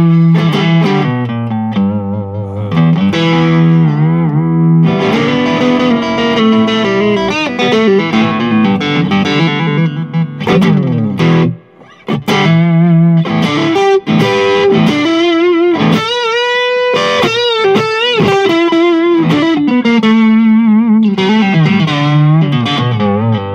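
Stratocaster single-coil pickups driven through a vintage white-label Maxon SD-9 Sonic Distortion pedal, playing loud, sustained distorted chords and melodic lines with a brief dip near the middle, no talking over it.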